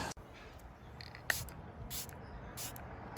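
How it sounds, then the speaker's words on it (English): Several short bursts of activator solution sprayed from a nozzle onto a yellowed car headlight, hissing in quick pulses against a quiet room background. "The next step was spraying on that activator solution."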